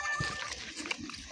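A goat caught for its meat gives a couple of short, close bleats amid rustling and faint voices nearby.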